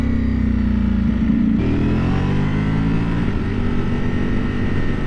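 A 2023 Ducati Panigale V4R motorcycle riding on rough country lanes, its engine a steady loud drone with a clear gear change and rising pitch as it pulls, heard close without talk.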